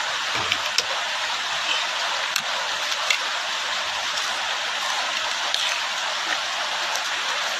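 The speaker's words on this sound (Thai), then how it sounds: "ทำกลางสายฝนเนาะ" Steady rain falls during outdoor cooking in a Thai countryside setting, a dense continuous hiss of drops on surfaces with occasional louder drips, no talk.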